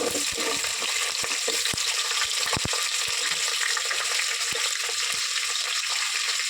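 Vegetables and onions frying in a pan for bagara rice give a constant hissing sizzle, broken by scattered sharp clicks and taps of a stirring utensil.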